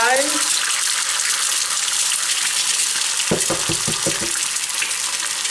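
Eggs frying in a pan, a loud continuous sizzle and crackle from start to finish, with a short run of clinks partway through.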